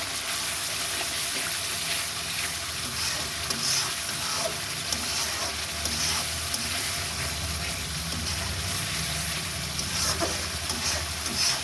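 Spices frying in oil for a roast-meat dish and being stirred, with a dense, continuous close-up sizzle and a few faint scrapes, steady in loudness throughout.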